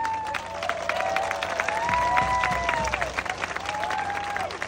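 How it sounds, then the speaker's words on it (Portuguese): Audience clapping steadily at a political announcement of mayoral candidates in Jacobina, a dense, sustained round of applause with some crowd noise, while a voice or tone glides in and out over the top. "Quero uma salva de palmas para esses dois meninos."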